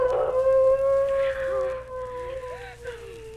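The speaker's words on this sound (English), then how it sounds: "If what made those footprints is doing that howling, then it must be a wolf" A wolf howls with a long, steady, wavering tone that holds and then slides into fainter overlapping howls, carrying as if from some distance in an eerie Halloween ghost story scene.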